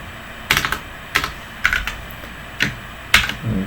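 Quick, crisp keystrokes on a computer keyboard as code is typed, arriving in short bursts of a few clicks each with brief pauses between, close and clear with no one talking.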